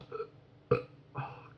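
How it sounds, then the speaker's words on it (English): A burp after a sip of Westmalle Extra, a Trappist monk-brewed beer: two short, close eructations, the first sharp and loud, the second softer and longer, with quiet room tone between. "If I burp, sign of a good beer."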